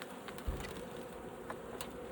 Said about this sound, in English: Wasps, let's see what this wasp does now.